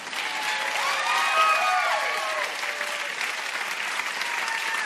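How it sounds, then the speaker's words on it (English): An audience claps steadily, making a dense, even wash of applause that holds at full strength for several seconds. "Clap."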